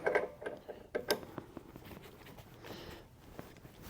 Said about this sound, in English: then we'll tighten it back up using the breaker bar